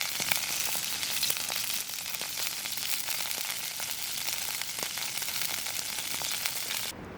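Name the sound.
floured perch pieces frying in a pan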